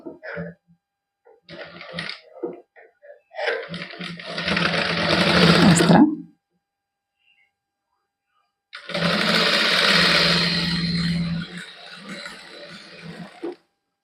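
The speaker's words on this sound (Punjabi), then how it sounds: "ਹੁਣ ਪੈਰ ਪਰ ਦੀ ਸਿਲਾਈ ਲਾਵਾਂਗੇ" A sewing machine stitches lace onto the hem of a garment, close and loud, with a short burst, a longer steady run, a pause, then another long stretch of rapid whirring.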